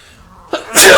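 A single loud, close sneeze, a short intake followed by a sharp explosive burst, heard during a Hearthstone gaming stream.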